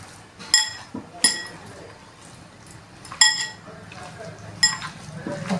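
A metal utensil clinks sharply against a pan while bottle gourd pittu is stirred and mixed, four or five distinct bright taps spaced a second or more apart over quiet kitchen background.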